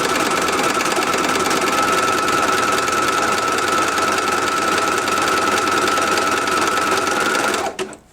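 A sewing machine hums steadily and loudly through a long run of zigzag stitching on a grime guard, stopping abruptly at the very end.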